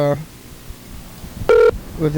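A telephone gives short tonal electronic rings and beeps, sounding at the start and again near the end, with a louder ring in between and a muffled voice underneath.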